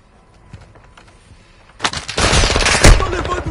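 Rapid machine gun fire in a Call of Duty match, sparse scattered shots at first, then a loud, dense burst of automatic fire with a sharp blast near the end.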